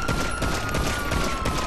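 Rapid video game gunfire from GTA 5 crackles in a short, dense fusillade of shots at steady loudness, with no talk over it.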